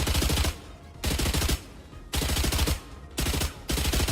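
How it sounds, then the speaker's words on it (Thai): Automatic gunfire in the Valorant shooter game comes in four loud, rapid bursts of about half a second each, separated by short pauses, with no talk. "มีเสียงยิงครับ เฮ้ยเสียงยิงแบบ เสียงยิงมันอยู่นะ"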